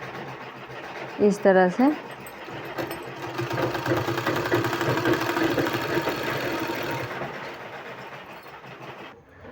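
Sewing machine stitching a fabric sleeve, a continuous mechanical whir running steadily for several seconds under a voice speaking briefly near the start.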